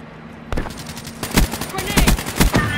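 Rapid automatic gunfire from Call of Duty: Black Ops 3 multiplayer starts abruptly and carries on in loud, dense bursts with sharp individual shots, while a player talks over the shooting.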